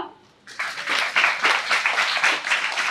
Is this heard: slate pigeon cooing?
no